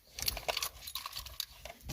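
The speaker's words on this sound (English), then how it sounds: "Too many keys in my pocket." A bunch of Ford car keys jangles up close as it is handled, with irregular metallic clinks and rattles over about two seconds.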